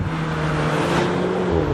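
The 1750 TBI engine of an Alfa Romeo Giulietta 940 Quadrifoglio Verde with a TCT automatic gearbox gives a steady, loud, close rumble while accelerating, a continuous low drone with no voices.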